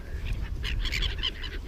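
Seagulls call in a quick run of overlapping cries near a feeding spot in woodland while being thrown pasta, over a low, steady background rumble.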